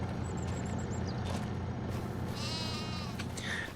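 Sheep on a farm in Farming Simulator 25 bleat a few times over a steady, loud engine-like drone, with the wavering bleats clearest in the second half and no talking.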